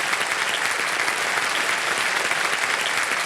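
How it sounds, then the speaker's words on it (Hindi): Loud, sustained applause comes from the studio crowd of the Kaun Banega Crorepati quiz show. The clapping is thick, steady and unbroken, with no voices on top. "आप सबको जोरदार तालियां बज जाए इनके लिए।"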